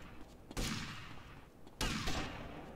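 Gunfire in the video game GTA Vice City comes as two sharp, loud bursts about a second apart, each trailing off into a short echoing decay.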